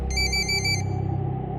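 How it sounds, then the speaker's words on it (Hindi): A phone ringtone plays close and loud, a bright repeating electronic melody in short pulses for under a second, then stops, leaving a steady low background hum in a quiet room. "पुष्कर का फोन बजा"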